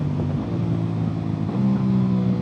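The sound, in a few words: Aprilia RS660 Factory motorcycle engine revving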